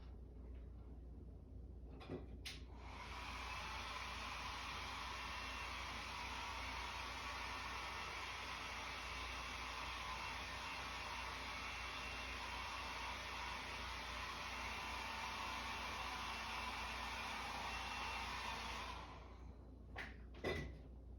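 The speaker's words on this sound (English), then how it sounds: "I'm going to do another round of blow drying." A hair dryer blows steadily for roughly sixteen seconds to dry paint during an amateur beginner painting session. It starts and stops abruptly, with faint knocks around the start and end and no speech over it.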